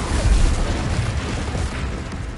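An Incendio fire spell bursts in Hogwarts Legacy with a loud, sustained roaring blast that rumbles heavily at first and then holds as a dense, steady whoosh of flame.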